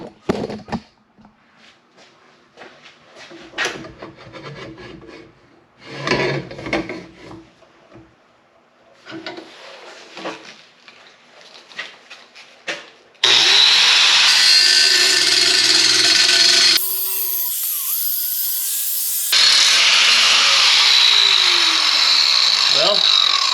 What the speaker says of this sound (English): I have a feeling this cutoff wheel would cut a thinner cut.